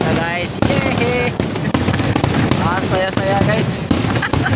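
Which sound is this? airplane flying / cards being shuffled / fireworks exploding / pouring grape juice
fireworks exploding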